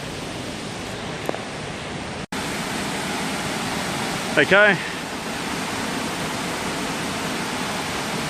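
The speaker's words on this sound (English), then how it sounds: "you can see more water rushing down there" Rainwater runoff rushing down a rainforest slope on a bush walk, a steady loud broadband wash of flowing water throughout, with a brief spoken word and a short vocal sound partway through.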